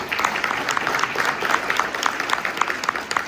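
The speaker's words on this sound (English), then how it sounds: "Let me get a round of applause." Audience applause fills a packed room at a real estate event, a dense steady clapping from many hands with some crowd noise, no clear voices.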